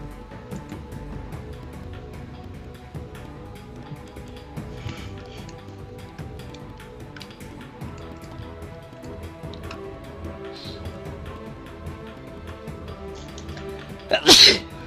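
One short, sharp sneeze bursts out near the end, loud and close, after a long stretch of quiet low background sound with scattered faint clicks.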